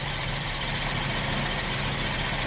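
A Toyota Kijang 5K engine idles steadily while its carburetor RPM is being adjusted, giving a continuous, even low rumble up close with no voices.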